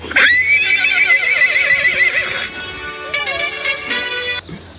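A horse neigh plays through a phone speaker, a loud, shrill whinny with wavering pitch followed by a second shorter whinny, slightly tinny and close.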